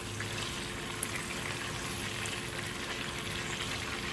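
Chicken frying in a pan for adobo, a steady dense sizzle of hot oil that holds at an even level throughout, close up with no talking.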